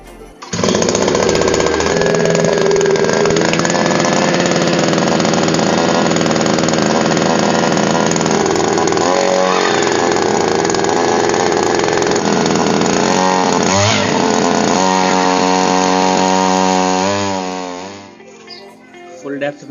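A small engine-driven earth auger digs a pit into the ground, its two-stroke motor buzzing loud and continuous with shifting pitch as it bores, then winding down near the end.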